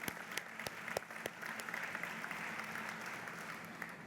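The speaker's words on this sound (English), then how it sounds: "So a round of applause, right? Like for DevSecCon on the 5th birthday." An audience at the DevSecCon London 2019 conference applauds for the event's fifth birthday, a soft, steady patter of clapping with a few sharper distinct claps early on, heard at a distance.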